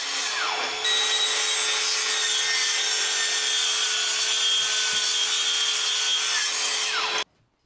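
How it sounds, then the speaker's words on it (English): A track saw rips through MDF panels, a steady loud cutting whine that runs for about seven seconds, then stops abruptly, with no voices. "I use the track saw to cut the pieces to size."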